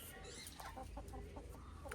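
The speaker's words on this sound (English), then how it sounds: "I've got the chickens around." Chickens clucking around a yard, a few short soft clucks scattered over faint background noise, with no voices.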